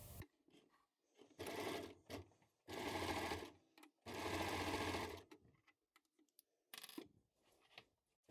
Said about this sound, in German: Beim Nähen mit der Overlock liegt der Ärmel oben.